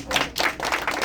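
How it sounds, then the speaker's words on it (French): Church congregation applauding, a short burst of brisk, fairly loud clapping from a group of people, with no speech over it. "Applaudissons le Seigneur."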